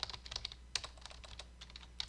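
Quick, faint clicks of a computer keyboard as a cell name is typed and Enter is pressed, a short irregular burst of keystrokes alone in a quiet room.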